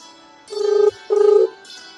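A telephone rings in two short, warbling bursts separated by a brief pause, with the start of a third at the end; loud and close.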